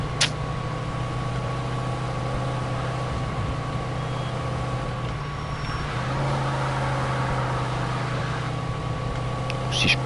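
A car in the video game Mafia 2 drives along with a steady, droning engine hum that holds at an even level, shifting slightly in pitch midway.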